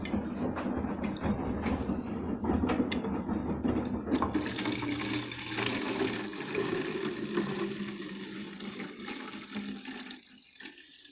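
A washing machine running a delicate wool program drains its water, a steady gushing, rushing flow that stays loud throughout, then thins out near the end with some gurgling.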